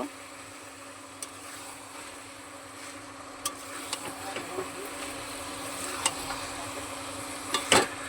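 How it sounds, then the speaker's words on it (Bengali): A dish slowly sautéing over very low heat with a little water, a faint, quiet sizzle under occasional soft clicks and scrapes of a stirring spoon. "এটাকে আমি ভালো করে কষিয়ে নেব। একদম ধিম আঁচে কষাতে হবে।"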